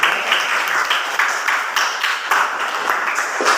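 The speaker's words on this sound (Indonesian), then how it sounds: "Tepuk tangan untuk teman kalian sudah menjawab." Students in a fiqh classroom clap together for a classmate, bursts of hand claps falling into a rough, repeated rhythm, close and fairly loud.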